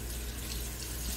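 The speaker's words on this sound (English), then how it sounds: "I'm gonna rinse it a little bit." Running tap water splashes steadily over a raw duck being rinsed in a kitchen sink, a continuous close hiss and patter with no voices.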